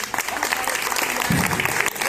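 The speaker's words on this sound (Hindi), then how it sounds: "ऐसे भाई को आप लोग ताली बजाकर स्वागत करें।" A crowd at a padyatra rally in Bhabua, Kaimur, Bihar claps in welcome, a dense, even burst of applause with faint voices beneath.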